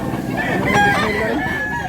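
A young gamefowl rooster of about eleven months to a year crows once, fairly close, with a strained harmonic call over steady background noise.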